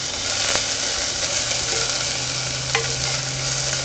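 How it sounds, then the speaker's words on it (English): Diced onion frying in olive oil over high heat while being stirred around the pan, a steady broadband sizzle with a low hum underneath and a few soft scraping ticks. "I'm just moving the onions around because they're so small, they're going to cook really quickly."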